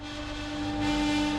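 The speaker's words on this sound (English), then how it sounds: "Down in the engine room, there is a loud buzzing noise." Electric ferry engine room with 300 batteries, a loud steady electrical buzz with a sharp sustained tone, constant and close for a brief moment.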